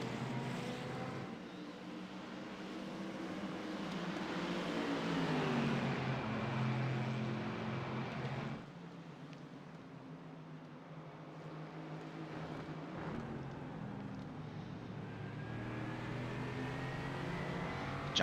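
Onboard Mercedes GT4 race car engine at racing speed on a lap while chasing an Aston Martin, a loud, steady roar whose pitch climbs and falls through gear changes, with one sharp lift-off midway.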